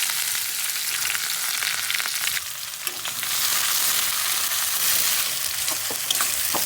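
Chopped onions frying in hot mustard oil for a mutton curry give a steady, loud, close sizzle that crackles continuously without voices.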